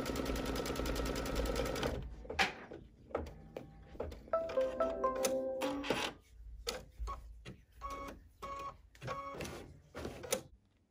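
Solaris sewing machine stitching tack-down stitches through quilt batting and backing, a fast continuous run at first, then short bursts of rapid needle clatter separated by pauses.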